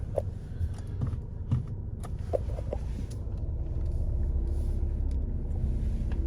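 A VW Passat B8 4Motion Highline engine starts with a few clicks and thumps, then settles into a low, fairly quiet rumble that gradually builds as the car pulls away slowly.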